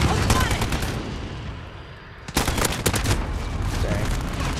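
Gunfire in Call of Duty Modern Warfare, rattling automatic bursts and sharp shots that pause briefly and then resume in a dense volley, with faint game voices in the background.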